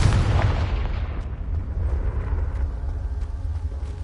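A Confringo fire spell explodes in Hogwarts Legacy, a loud deep boom that rolls and decays into a rumbling tail over a few seconds.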